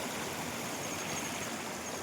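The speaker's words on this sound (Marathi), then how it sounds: "पाणी भरपूर चाललंय पाण्याची पातळी कमी पाहिजेत बघा पाण्याचा प्रेशर भरपूर आहे" Strong, continuous rush of a river flowing at high water, steady and broadband, filling the scene without pause at night.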